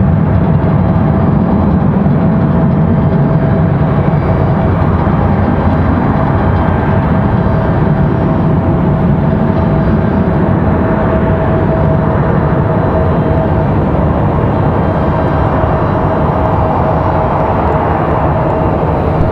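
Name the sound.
Delta Airbus A319 airliner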